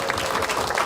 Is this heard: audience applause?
yes